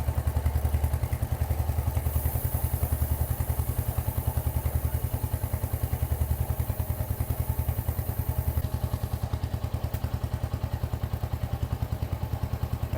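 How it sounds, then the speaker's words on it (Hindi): A Hunter 350 motorcycle engine runs steadily in first gear, giving a close, even thumping pulse that never lets up, with a faint hiss over it for part of the time. "गाड़ी को स्टार्ट कर लेते हैं। फर्स्ट गियर में"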